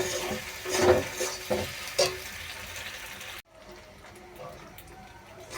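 Pasta being stirred with pasta masala in a pan, a frying hiss and a few scraping stirs for about three seconds, then a quieter, softer cooking background after an abrupt cut.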